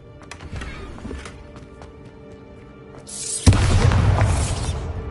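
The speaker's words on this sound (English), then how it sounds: "Bombarda! This could prove dangerous if I'm not careful." A Bombarda spell goes off in Hogwarts Legacy, a loud broadband blast erupting about three and a half seconds in after quieter game ambience with faint hoofbeat-like taps, its roar sustaining to the end.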